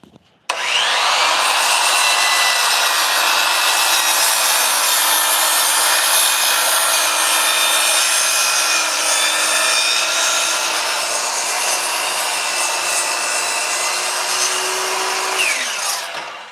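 A power saw cuts halfway through a wooden board for a console table, starting abruptly and running as a loud, steady, high-pitched whine with grinding texture for about fifteen seconds before stopping.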